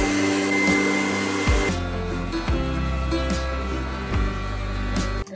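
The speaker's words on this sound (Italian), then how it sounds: "passare il phon per la prima volta è davvero un'esperienza molto strana" A handheld hair dryer blows steadily and loudly, with its airflow pitch shifting several times as it is moved or switched between settings, alone without talk.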